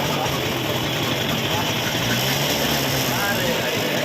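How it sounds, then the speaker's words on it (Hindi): A TVS XL moped engine, freshly repaired, running steadily with a dense, even rattle and hum throughout, close and continuous. "गाड़ी को चालू करते हैं और स्टार्ट करते हैं और दिखाते हैं कितना साउंड बढ़िया हुआ है"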